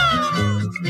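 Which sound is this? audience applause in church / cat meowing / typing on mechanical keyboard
cat meowing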